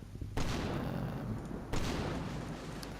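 Two heavy, booming impacts from mortar fire in Combat Mission: Battle for Normandy, a WWII tactical war game, about a second and a half apart, each with a broad rumbling tail over steady low battlefield noise.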